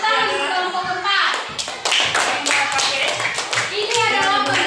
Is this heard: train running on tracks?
no